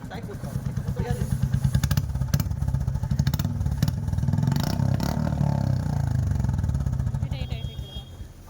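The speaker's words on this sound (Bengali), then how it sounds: "আর এই সাইলেন্সারটা কিন্তু আওয়াজটা ভালোই ছিল, মানে চালালে তো বোঝা যাবে যে সাউন্ডটা কি হচ্ছে" A motorcycle with a Meteor engine runs through a newly fitted silencer, its steady, close exhaust rumble pulsing throughout with slight rises, while a person talks over it.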